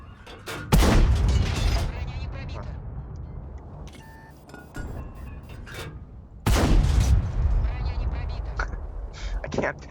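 Tank cannon fire in World of Tanks: two loud, booming shots several seconds apart, each followed by a rumbling decay, with quieter mechanical clanks in between and a player talking over the game.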